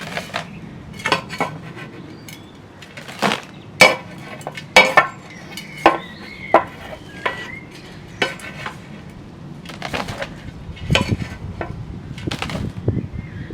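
Soil is scooped out and loosened in a rooty tulip pot, giving close, intermittent scrapes and gritty scuffs spread irregularly over a quiet background, with no talking.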